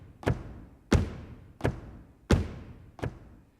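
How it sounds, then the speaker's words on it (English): Thump-style drum tom samples, deep natural-sounding kit tom hits played one at a time, five separate dull thuds spaced evenly about two-thirds of a second apart, each decaying quickly, alone without talk. "these two right here are gonna be your main two tom samples"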